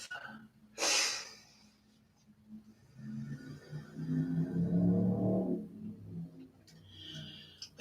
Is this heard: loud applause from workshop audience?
no